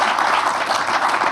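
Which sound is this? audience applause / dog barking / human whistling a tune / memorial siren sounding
audience applause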